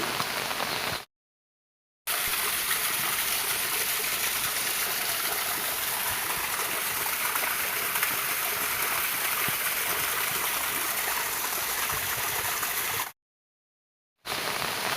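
Steady, full-band rushing water of a forest stream flowing nearby beside a house, continuous and fairly loud with no voices, broken by two short gaps of silence.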